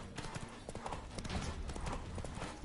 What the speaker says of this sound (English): here we go with the horse again